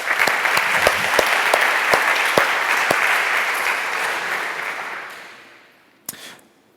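Conference attendees at the ADDC 2017 design and development event applaud the speakers, dense clapping with a few sharp louder claps, steadily fading out over several seconds before one last brief clap near the end.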